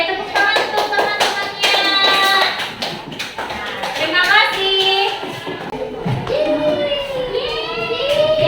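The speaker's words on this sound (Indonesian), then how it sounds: "tepuk tangan untuk teman-temannya" Primary school pupils in a classroom clap together for their classmates, close rhythmic patter that runs under excited children's voices and chatter.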